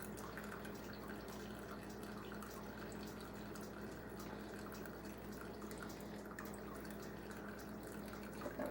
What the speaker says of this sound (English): I'm letting my cheese drain from the whey